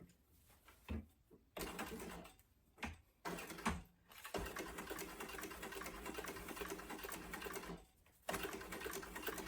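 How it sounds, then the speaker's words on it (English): A sewing machine stitching across marks on fabric panels for a sling bag, running in steady bursts of fast rhythmic needle clatter with brief pauses between runs, close and clear with no talk. "So I'm going to go ahead and sew down my marks."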